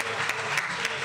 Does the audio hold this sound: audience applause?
yes